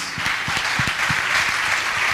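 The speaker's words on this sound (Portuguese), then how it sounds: "Dê mais uma salva de palmas ao Senhor." A church congregation gives a short round of applause during a service, with steady, moderately loud clapping from many hands.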